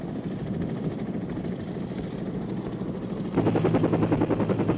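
A CH-53 helicopter's rotor chops steadily with a heavy engine roar, growing louder and more pulsing toward the end as it passes close.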